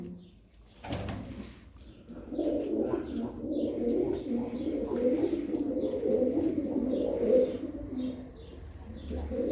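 Tumbler pigeons cooing nearby in low, rolling murmurs, a continuous chorus of several birds with a few faint chirps and a sharp rustle at the start.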